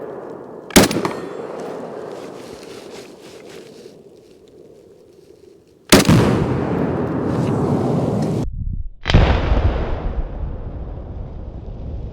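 Loud, close gunshots from a Steyr AUG rifle at an outdoor shooting range: a single sharp blast followed by heavy rolling echo, then two more booming reports near the end, each trailing off into a long reverberant tail.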